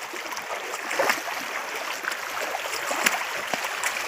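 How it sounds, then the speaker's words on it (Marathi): Floodwater pours out over a small dam after heavy rain in Beed, a steady rushing and gurgling flow heard throughout at moderate distance. "बघू शकताय की पाणी किती प्रमाणात बंधाऱ्यातून बाहेर येत आहे।"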